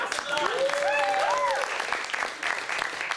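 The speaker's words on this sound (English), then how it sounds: "Do I not get a round of applause for that massive" A live audience at a university mock debate breaks into steady, dense applause and clapping that fills the whole stretch, with a voice briefly rising over it near the start.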